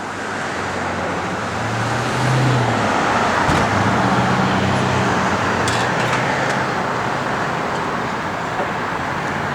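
A 1969 Chevrolet Camaro RS with Z28 hood and deck lid striping drives on the road, a steady loud rumble of engine and tire noise with no talk.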